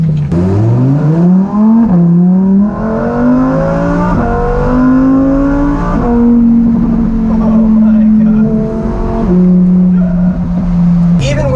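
A loud, close Lamborghini Huracan Evo engine revs up hard and climbs through rising pitches as the rear-wheel-drive car accelerates with windows down, holding a steady roar between gear shifts.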